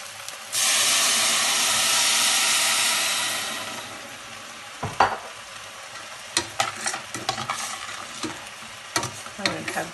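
Chicken cooking with rice in a pot is stirred, with a steady steamy sizzle that fades out, followed by scattered scraping and clinking of a utensil against the pot, fairly close.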